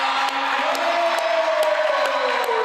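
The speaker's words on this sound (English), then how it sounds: "The crowd goes crazy for Abby Crone making the basket on senior night" Loud crowd cheering and whooping at a girls' high school basketball game on senior night after a made basket, a steady roar of voices for the whole stretch.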